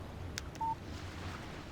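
A short electronic phone beep signals an incoming text message in the video game Alan Wake. It is a single brief tone over a quiet, hushed game backdrop.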